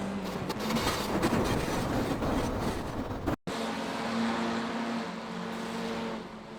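An F4 race car in iRacing holds full throttle in a loud, steady engine drone with a constant tonal whine, cutting out for an instant midway before resuming.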